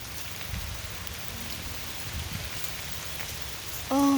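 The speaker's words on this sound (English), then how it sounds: "I'm so happy with the rain." Steady rain falls through a hailstorm in Iowa, a dense even hiss that holds through the whole stretch, with a brief tonal sound cutting in near the end.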